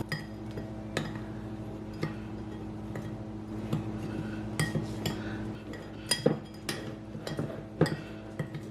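A spoon clinks and scrapes in a bowl as dry spices are mixed for a Cajun butter crab and shrimp dish. The taps are irregular and close by over a low steady hum, with no talking.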